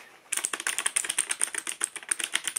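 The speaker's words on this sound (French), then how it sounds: "un clavier rose qui fait des bruits trop agréables quand on tape dessus" Rapid, crisp clicks on a pink keyboard rattle in a quick, uneven rhythm, close and fairly loud, with no talking.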